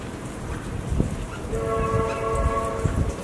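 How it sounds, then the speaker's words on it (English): A train rumbles past outdoors in Melbourne, Australia, with a sustained horn blast partway through, over a low steady roar and scattered clatter. "That's the train."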